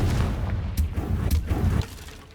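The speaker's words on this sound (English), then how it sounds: "Confringo!" An explosive spell is cast in the video game Hogwarts Legacy, giving a cluster of deep, rumbling booms with a few sharp cracking bursts. It rolls on for about two seconds before fading out.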